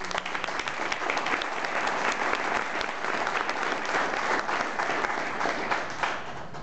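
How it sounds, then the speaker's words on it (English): An audience claps in sustained applause, a dense, even patter of many hands continuing without voices and fading slightly at the end. "let's give them a round of applause"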